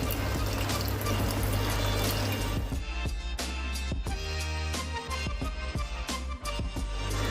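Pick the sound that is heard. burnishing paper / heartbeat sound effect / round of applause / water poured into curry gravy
water poured into curry gravy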